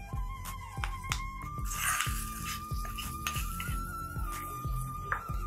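A spoon scrapes and clinks steadily against a pan as food is stirred on a stove that has just been switched off. The metallic taps come fairly quietly at an irregular pace, and no one talks.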